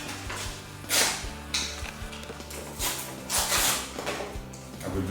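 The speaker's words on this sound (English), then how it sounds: "So I give a little bit of sandpaper to this." Sandpaper rubs over windsurfing sail batten parts being prepared for gluing, making uneven scratchy bursts and strokes over a low mechanical background, close and fairly quiet.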